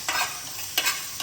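Ingredients roast dry in a pan, with three short scraping stirs and a light sizzle between them, close and clear, no voices.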